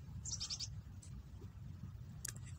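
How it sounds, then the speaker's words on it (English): A bird chirps in a quick series of four bright, high notes near the start, then a few fainter calls later, over a steady low background hum indoors. "The bird says hello too."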